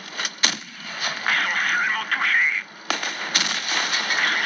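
Tank cannon fire with standard shells in World of Tanks Blitz, with a sharp blast near the start and another later, set against steady in-game engine and battle noise.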